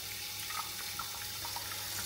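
Cold water runs steadily from a kitchen tap into a pot, a continuous close rushing splash with no voices over it.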